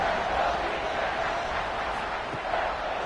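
A stadium crowd at a college football game between Duke and Wake Forest roars after a punt return, a dense, distant wash of cheering that holds steady for a few seconds.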